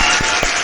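Several hands clap together in a quick, steady run, close and fairly loud, with a couple of stronger slaps standing out, from a pair of people in a studio-style chat.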